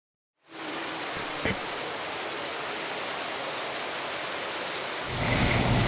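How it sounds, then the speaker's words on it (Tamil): Heavy monsoon rain in southern Tamil Nadu falls as a dense, steady hiss that stays constant throughout and grows slightly louder near the end. "அங்கு பல்வேறு பகுதிகளில் தொடர்ந்து கனமழை நீடித்து வருகிறது"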